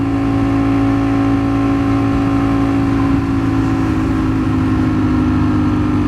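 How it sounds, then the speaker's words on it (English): Road traffic heard from a moving motorcycle on a highway near an exit: a steady, loud engine drone with surrounding vehicle noise, no talking. "Look at all this traffic."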